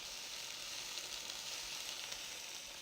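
Steaks searing in a hot pan, a steady, even hiss of sizzling fat that stays close and fairly quiet throughout, with no voices over it.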